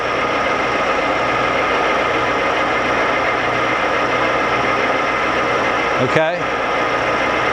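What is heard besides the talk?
Lagun FVA-5LA milling machine running with quill feed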